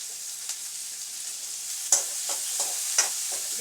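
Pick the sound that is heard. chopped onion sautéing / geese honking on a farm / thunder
chopped onion sautéing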